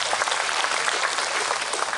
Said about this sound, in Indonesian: Tepuk tangan buat konco-konco Satria Muda.